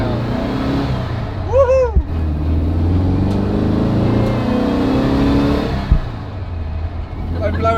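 A bus with a newly fitted engine revs and pulls away, its engine roaring steadily throughout while people talk and whoop excitedly over it.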